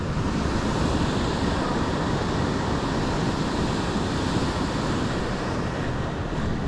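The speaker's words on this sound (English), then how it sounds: "It's very seldom that you get the waves coming right to the top." Ocean waves surge onto the rocks at Isipingo, Durban, South Africa, a steady loud roar of surf with constant wind buffeting the microphone and no break or pause.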